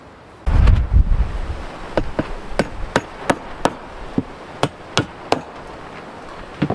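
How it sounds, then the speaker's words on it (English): A hammer drives bolts down into a homemade gold sluice: an initial flurry of heavy blows, then about a dozen sharp, evenly spaced strikes, close and loud over steady outdoor wind noise. "Get my hammer and hammer them down."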